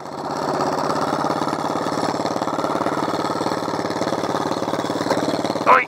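The engine of an off-road vehicle called the Dynamonster runs close and loud, a steady chugging drone with an even pulsing rhythm throughout and no voices.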